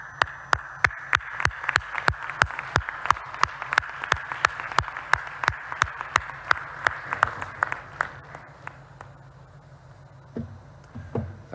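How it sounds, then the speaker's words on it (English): An audience at the INTERPOL General Assembly award moment claps steadily for an honoree, a dense run of crisp claps that keeps an even beat, then tapers off and stops near the end. "Sharka, this is your applause."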